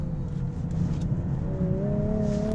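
A 2020 Nissan 370Z NISMO engine sounds steady and loud as the car is thrown into a corner, its revs climbing partway through with a rising tone.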